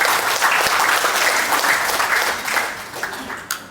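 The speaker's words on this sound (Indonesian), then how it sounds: "Tepuk tangan sekali lagi buat diri kita." Applause from an audience at a business training and orientation event, a dense, steady clapping that fills the room at close range, then thins out toward the end.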